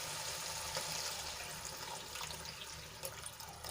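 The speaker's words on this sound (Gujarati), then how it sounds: "આપણે પાણી એડ કરીશું થોડુંક" Soft, continuous splashing of water being poured into a cooking pan of ridge gourd curry, fairly faint and steady throughout, with no voices.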